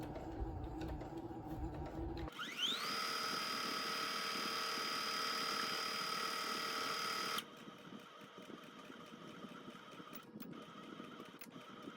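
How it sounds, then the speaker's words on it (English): A sewing machine back stitches the corners of a fabric bucket tool caddy, starting after a couple of seconds with a whirring motor run of about five seconds, then stopping, leaving quieter room noise. "you want to back stitch a couple times just to give it some strength at the corners"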